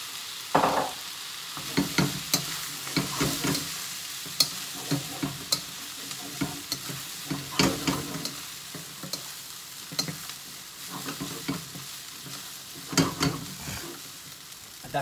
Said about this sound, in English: So we're gonna add the rice.